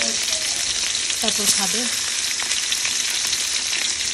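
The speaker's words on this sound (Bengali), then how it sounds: "এই যে মচমচা করে আম্মু মাছ ভাজছে" Kalibaus fish fries crisply in a pan at home, with a loud, continuous close sizzle and faint stirring sounds, while a voice speaks briefly over it.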